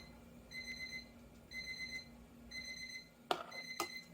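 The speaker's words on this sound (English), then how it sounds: "that's my timer going off" Kitchen timer beeping while baking margarita pies, repeating short electronic double-tone chirps about once a second, fairly faint, followed by a couple of sharp clatters near the end.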